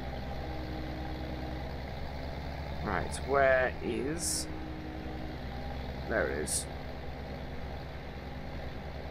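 A tractor engine in Farming Simulator 17 drones at a steady low idle throughout, close and constant, while someone talks briefly over it.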